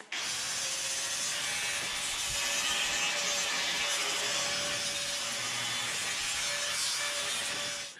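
Continuous loud grinding on a thick, heavy-duty metal motor mount roughly a quarter inch thick, a steady abrasive whine with a faint tonal hum running unbroken for the whole stretch, close up and with no talking.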